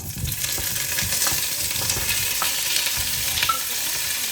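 Spice-coated food frying in a pan with ground coriander and cumin, a steady close sizzle with scattered crackles and occasional soft scraping from stirring.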